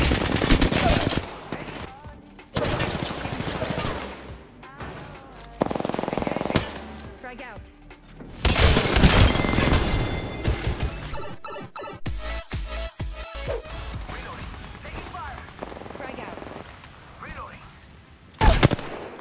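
Bursts of automatic gunfire from the Skull Town map of a shooter game, loud and near, come in repeated clusters over nearly twenty seconds, with short gaps and a final sharp blast, while a player talks.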